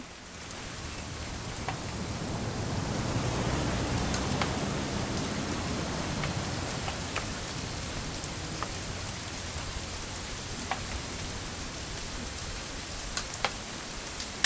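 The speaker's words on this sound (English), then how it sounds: "It's gonna rain the whole weekend, isn't it?" Steady rain falls and patters on surfaces, with scattered louder drips punctuating a constant hiss; no voices.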